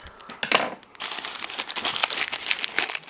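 A diamond painting kit package being cut and opened by hand, close crinkling and crumpling of plastic and paper in irregular bursts with a short pause near the start.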